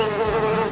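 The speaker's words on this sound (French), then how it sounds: "on l'a vu dans la jungle se battre avec une mouche" Close buzzing of a fly, a steady droning whine with a wavering pitch, heard alone for under a second.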